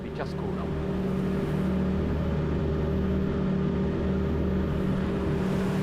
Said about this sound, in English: aft we have 2 Mercury Verado V8 engines, 300 horsepower each